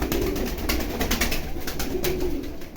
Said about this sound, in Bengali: আমি আপনাদেরকে জাস্ট ফ্লাইয়ের একটা প্রমাণ দিচ্ছি যে কবুতরগুলো কতটা ছট ফটা কবুতর দেখেন